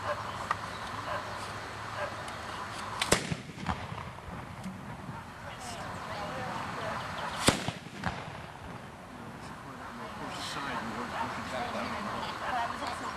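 Guns fired from a firing line, two sharp, loud shots roughly four seconds apart cutting through steady outdoor background noise and murmuring voices.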